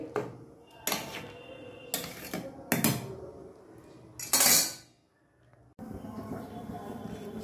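Khichuri being stirred in a pot, a handful of separate metallic scrapes and clanks of a spoon against the vessel, close and uneven, with quieter gaps between them.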